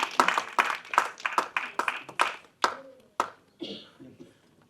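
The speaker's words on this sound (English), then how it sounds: "Let's keep the applause flowing." Applause from a wellness community audience at a talk on bipolar care, heard as a series of separate clap bursts that gradually thin out and fade.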